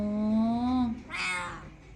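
A female cat in heat, restless to get outdoors, lets out one long, steady, close meow, then a brighter, higher-pitched second call after a short pause.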